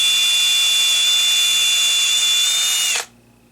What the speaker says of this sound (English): you want to watch your fingers when you're drilling this